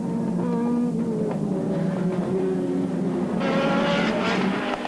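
Renault R21 race cars roar off the line at the start of a 15-lap Superproduction race at Le Castellet in 1988, several engines revving and layering together loudly, with a rising surge of higher engine noise near the end.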